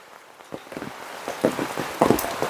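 Incessant rain in Panjal, Kerala, patters in irregular bursts of drops, swelling louder toward the end, with no voices over it.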